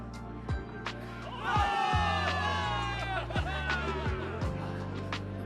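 A crowd of soldiers cheers and shouts together over steady game music with a pulsing bass in Zenless Zone Zero, the voices blended into a loud, sustained roar.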